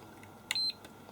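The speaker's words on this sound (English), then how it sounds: "the actual sound of the beeper is much louder. It seems to be a cheaper beeper" A single short, high-pitched electronic beep from an IMAX B6AC battery charger's beeper, crisp and fairly close, against a quiet background.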